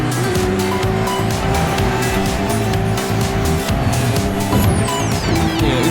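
Porsche 911 in dirt-racing spec driving in Forza Horizon 5, its engine droning loud and steady throughout with a brief tire squeal near the end, no talk over it.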